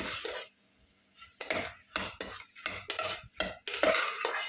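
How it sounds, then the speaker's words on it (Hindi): Mixed vegetables stirred in a pan for pav bhaji, a run of close, irregular scraping and clattering strokes with light sizzling and short quiet gaps between them. "सब वेजिटेबल्स हमने डाल दिए हैं और इसको थोड़ा सा हम मिक्स कर देंगे"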